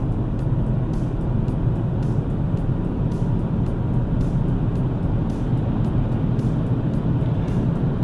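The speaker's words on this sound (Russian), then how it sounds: "так вот разгоняется машина по трассе." A BMW X1 with a three-cylinder diesel and 7DCT robotized gearbox gathers speed on a highway, its engine drone and road roar holding steady and loud from inside the cabin throughout.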